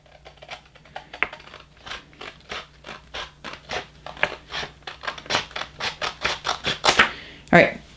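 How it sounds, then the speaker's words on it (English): Scissors snip away the excess white edging of sublimation paper for a 20 oz skinny tumbler wrap, a run of crisp close cuts that quickens and grows louder toward the end, with no one talking. "right now I am just cutting off the excess white edging here"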